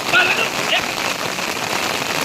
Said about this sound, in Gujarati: પણ વરસાદ ચાલુ થઈ ગયો